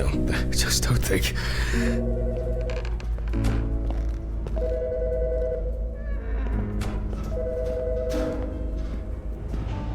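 A telephone rings repeatedly inside the horror video game Autopsy Simulator, its electronic ring tone sounding in bursts over a steady low hum and game ambience.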